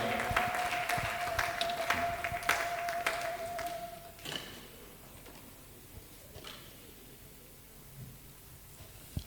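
A church congregation at a Wednesday worship service claps loudly at first, then the applause thins to scattered claps over a quiet background, with a sustained tone fading out early on.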